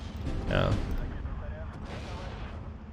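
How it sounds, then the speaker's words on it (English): A mortar barrage lands in the strategy game Steel Division 2, a muffled, distant rumble of impacts with a heavier thump early on, then fading rolling booms. "Oh, that's a bunch of mortars coming down."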